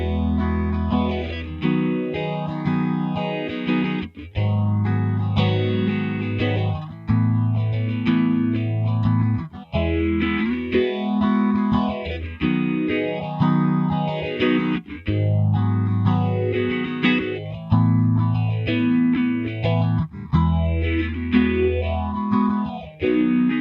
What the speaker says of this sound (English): The resonance switch allows you to add either a little or a lot of intensity to the effect by feeding the output of the wet signal back to the input.